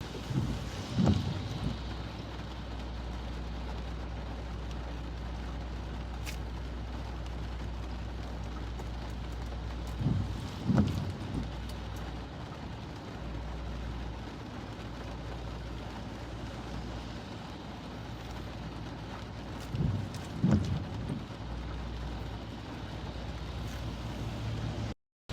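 Road traffic in morning rain: a constant rumble of engines and wet hiss with wind buffeting the microphone, and three louder passing or revving surges spaced about ten seconds apart.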